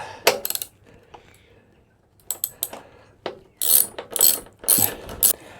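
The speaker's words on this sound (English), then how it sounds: "The next step is removing this bolt with a 12mm socket." Ratchet wrench with a 12mm socket loosening a fuel tank bolt on a 2023 Honda CB125F motorcycle, heard as several bursts of sharp metallic clicking separated by pauses, close and fairly loud, with no talking.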